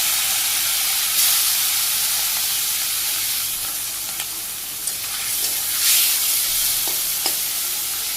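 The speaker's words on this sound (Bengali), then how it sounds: "তেল দিয়ে মাছটা ভাজি করুন" Churchuri fish frying in hot oil, a loud, dense, continuous sizzle close by with brief stirring clicks, in a Bangladeshi village kitchen.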